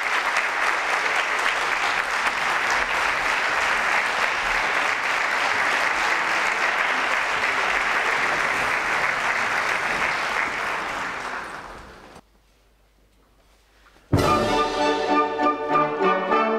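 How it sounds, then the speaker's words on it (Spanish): A concert audience at a pasodoble band performance in Segorbe claps in a long, dense, steady round of applause that fades out into a brief silence before the band strikes up loudly. "Un aplauso."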